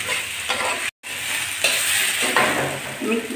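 Potatoes and green chillies frying in a pan for aloo chorchori, a steady close sizzle with scraping stirs, briefly cut by a short silent gap.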